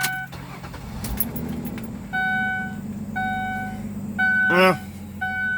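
A 2006 Ford Taurus engine starts with a short sweeping whine, amid a steady idle rumble and repeated dashboard chime beeps.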